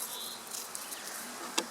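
Honeybees buzz during an outdoor hive inspection, a faint, continuous insect hum with brief closer passes and one short sharp tick near the end.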